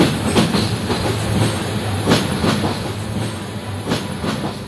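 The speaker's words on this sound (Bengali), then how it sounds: "ঢাকার কমলাপুর রেলওয়ে স্টেশন থেকে তুর্না এক্সপ্রেস ট্রেনে যাত্রা শুরু করলাম রাত 11টা 15 মিনিটে।" The Turna Express passenger train runs on rails at night after leaving Kamalapur station in Dhaka, its wheels giving a steady, rhythmic clickety-clack over a constant rumbling hiss, heard from inside the train.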